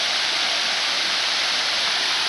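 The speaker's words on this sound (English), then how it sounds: "Sort of peaceful down here in the waterfall, just like a little quiet." Steady, even rush of a waterfall beside a hidden lakeside trail in a park, a dense hiss of falling water that holds constant and fairly close, with no voices over it.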